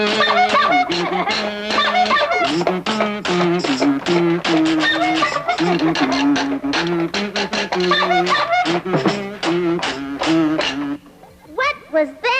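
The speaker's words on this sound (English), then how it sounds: "That was the sound of a one-man band." A one-man band plays a busy, bouncy tune with many quick strikes and layered notes, loud and continuous, stopping shortly before the end as the music breaks off.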